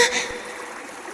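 Running water in a pitch-black cave setting, a soft, steady trickle that stays faint and continuous after a brief brighter burst at the start.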